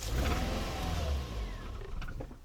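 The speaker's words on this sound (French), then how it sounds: "Elle démarre, elle tourne, on dirait sur 3 cylindres, elle cale." A Toyota Yaris engine cranks and catches, running rough and uneven as if on three cylinders, loud and close with a low rumble, then sags and dies away as it stalls.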